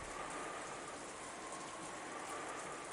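Steady, faint rain from the Umineko Chiru visual novel game, a continuous even hiss of falling water with no pauses or talk.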